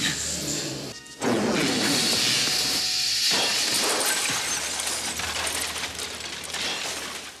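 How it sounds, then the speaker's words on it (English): A plaster dinosaur model head, a Tyrannosaurus rex prop, shatters loudly in a broad crash of breaking debris, followed by a sustained noisy hiss and scattering fragments that continue for several seconds without speech. "It's made of a special type of plaster so that when the head hits, it'll shatter."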